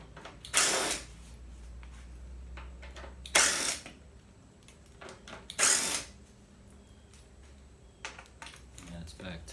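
A ratchet fitted with a 6mm socket turns screws on a KTM 450sx motorcycle, three loud close bursts of rapid clicking spaced a few seconds apart, with quiet handling noises between.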